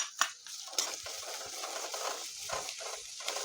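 Chopped vegetables and cabbage being stirred and fried in a kadai, with quiet scraping, tossing and clinks of a spatula against the pan over a faint, steady sizzle.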